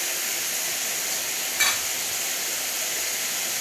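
Small diced potatoes frying with chickpeas in a hot pan, a steady close sizzle with a brief louder burst of crackling as more go in, no voices.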